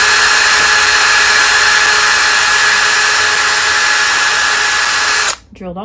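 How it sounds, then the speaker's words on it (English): A power drill bores through thin wood shims with a loud, steady high-pitched whine that holds for about five seconds, then cuts off abruptly as the bit breaks through. "I can go ahead and I can drill. So I'm going to be coming in. I'm going to be drilling."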